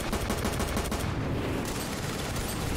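Flak gun firing in the Ravenfield video game during a WWII-style parachute invasion, a dense, continuous roar of rapid booming shots that stays loud and unbroken, with no talk over it.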